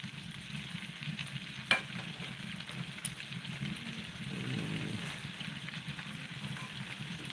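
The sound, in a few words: steak sizzling while basted with garlic butter sauce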